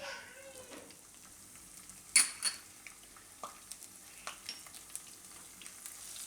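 Cumin seeds and chillies hit hot oil and crackle in a short burst of spitting, followed by scattered pops and the clink of a spoon against the pan, moderately close and with no talking.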